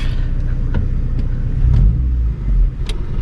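A 1996 Honda EK coupe with a swapped B18C engine and gearbox pulls away, its low engine rumble rising briefly as it drives, with a few faint clicks and knocks over the steady drone.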